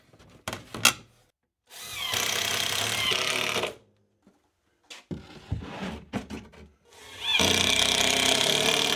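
A power drill whirs in several bursts, driving screws through clips into plywood, with clicks and handling knocks between the runs of the motor.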